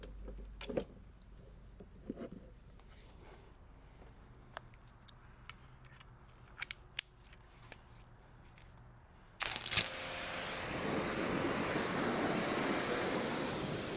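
A pressure washer rinsing a Toyota RAV4 during a decontamination wash starts up after several seconds of quiet clicks and taps, then gives a loud, steady broadband hiss of spraying water that continues to the end.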